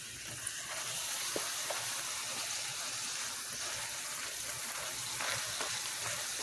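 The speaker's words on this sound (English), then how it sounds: "You put the shell in and just let it fry evenly on both sides till it's golden brown" Tostada shell frying in hot oil for tacos, a steady close sizzle and crackle running throughout with faint bubbling and no talk.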